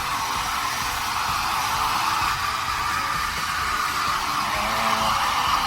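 A steady, loud pet hair blower drying a dog's fur roars without pause, a constant airy rush like a hair dryer running close by.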